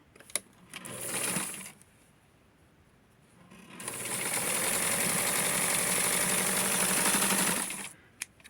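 A sewing machine stitches the hem of Barbie doll pants from a Simplicity 6244 pattern: a short burst of rapid mechanical whirring, a pause, then a longer steady run of stitching close by.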